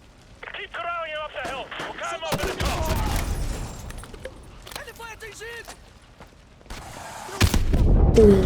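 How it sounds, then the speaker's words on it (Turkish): An RPG rocket is launched and explodes in a video game, making heavy booming blasts. One blast lands early and a louder one near the end, with talking in between. "Arkamdan RPG'yi fırlattı adamlar ya"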